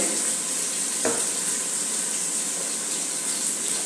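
Chopped celery sautés in a pot for homemade vegetable soup with a loud, steady, close hiss and sizzle. A single brief stir-scrape cuts in near the start, and no one talks.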